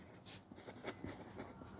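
Pen writing on paper during a class 10 NCERT maths lesson on areas related to circles, a soft continuous scratching with short strokes, quiet and close, with no talking.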